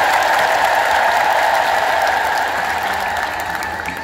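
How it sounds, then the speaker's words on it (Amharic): A church audience breaks into loud, continuous clapping on request, a thick steady roar of hands that slowly fades over a few seconds. "እሺ ያላችሁ ሰዎች አጨብጭቡ"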